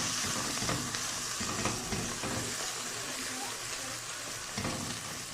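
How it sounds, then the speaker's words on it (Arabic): Chopped onions and greens sauté in a hot pan for stuffed vegetables, with a steady sizzle and bursts of crackling as the mixture is stirred, close and fairly quiet. "الخضره واشوحها مع البصله لغايه ما ريحتها تطلع"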